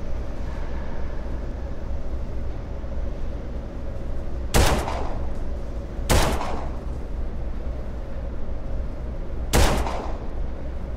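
Turrets in the video game Colony Ship fire three sharp shots, spaced apart over a steady low hum of background ambience, with no talking.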